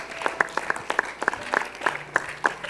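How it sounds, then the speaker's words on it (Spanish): A church congregation applauds during a worship service, a steady patter of many hands with individual claps standing out close by, rising and falling slightly over a couple of seconds. "Vamos a darle un aplauso al Señor Jesús."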